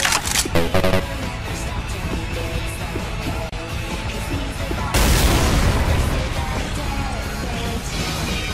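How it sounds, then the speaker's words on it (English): A pipe bomb goes off in the zombie game Left 4 Dead 2 VR amid dense game noise, a sudden loud booming blast midway through that rumbles on under continuous gunfire and chaotic in-game sounds. "Throwing a pipe bomb."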